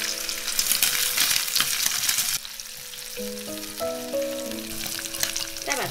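Pork belly sizzles in oil in a clay pot, then ginger and garlic join the fry; a steady, close crackle and hiss runs throughout, with soft music over the sizzle.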